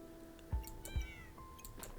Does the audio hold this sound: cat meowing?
yes